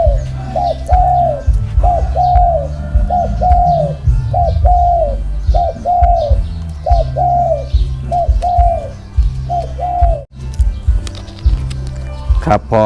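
Spotted dove cooing close by, a long series of regular repeated coos at an even rhythm, with someone talking over and between the calls and some handling noise near the end.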